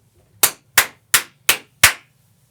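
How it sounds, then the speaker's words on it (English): Sharp hand claps used to sync the recording at the start of a podcast session: five loud, crisp claps in an even rhythm, close up in a quiet room with no talking. "Give us one more clap, Charlie"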